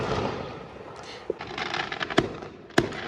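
Fireworks bang in the rain at a Swiss National Day celebration on 1 August: a steady hiss of rain and distant crackle, broken by three sharp, loud reports spaced about half a second to a second apart.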